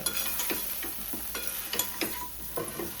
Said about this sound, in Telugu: ఇప్పుడు దీన్ని కలిపేసి ఇంకొక వంకాయ అందులో వేసేస్తాను